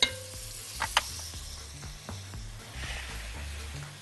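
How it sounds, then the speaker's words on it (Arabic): Onions frying in a pan for lentil soup, a soft steady sizzle with occasional faint clicks and scrapes of stirring, fairly quiet and close. "احنا هنا بنسيب البصل يتحمر شوية زيادة"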